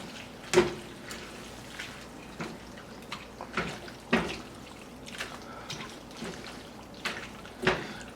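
A cheese and egg mixture is stirred into a pot of pasta, producing wet sloshing and soft clinks of the utensil against the pot in irregular bursts, close and moderately quiet.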